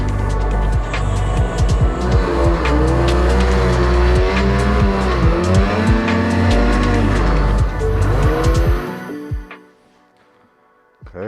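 A Ski-Doo MXZ 800 snowmobile engine revs and runs loud and close on a test drive, pitch rising and falling steadily for about nine seconds before cutting off into quiet.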